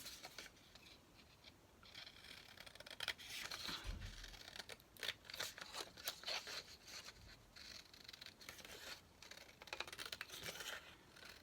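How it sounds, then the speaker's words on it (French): Large scissors cut through scrapbooking paper card in quiet, close snips and crisp rustles that come in short irregular bursts, with no voices. "je vais découper avec mon grand ciseau"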